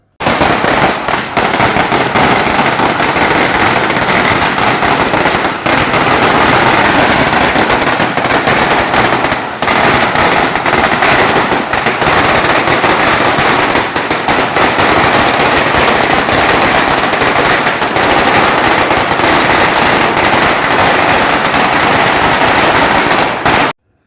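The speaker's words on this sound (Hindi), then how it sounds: "तो सुनो पटाखों की आवाज़ आप थोड़ी सी।" A long string of firecrackers is set off for a Chinese New Year celebration at a company. It makes a loud, continuous, dense crackle of rapid bangs for over twenty seconds without a break.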